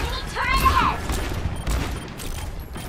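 Gunfire in the Overwatch video game, a fast spray of shots with booming low thumps running under excited talk, fairly loud and continuous across the short stretch.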